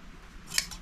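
Hand shears cut through sheep's wool during shearing in a Romanian village, giving a quick, close metallic snip or two over a quiet background.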